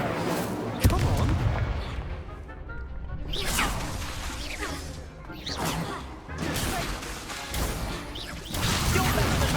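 An Incendio fire spell cast during Hogwarts Legacy combat, with whooshing fiery blasts and impacts bursting out several times over a busy, rumbling battle mix, while voices shout in the background.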